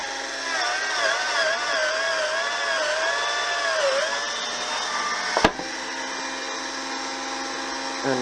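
A steady high-pitched motor whine of a bench drill made from an old cordless drill running an 8mm bit into timber, with a brief sharp knock partway through, fairly close.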